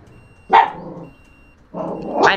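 A dog barks twice, loud and close, with a clear pause between the two bursts and a quiet background.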